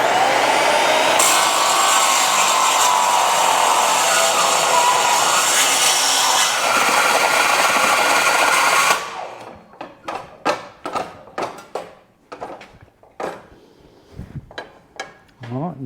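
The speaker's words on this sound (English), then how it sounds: "I clamped the fence on here so I can kind of run my saw against that fence" Circular saw cutting wood along a clamped fence in a wheelwright's coach shop, a loud continuous whining buzz for about nine seconds that stops abruptly, followed by scattered knocks and clatter as the work is handled.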